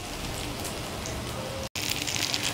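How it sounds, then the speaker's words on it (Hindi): Chicken and potato cutlets (aloo chicken tikki) frying in a pan of hot oil give a steady, close sizzle and crackle, broken by a brief cut of silence before resuming brighter and louder. "बस इस तरह गोल्डन कलर आने तक हम फ्राई कर लेंगे"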